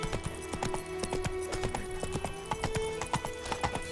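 Roach the horse gallops in The Witcher 3 video game, a rapid, steady clip-clop of hooves repeating close and clear throughout, with a faint low ambient hum beneath.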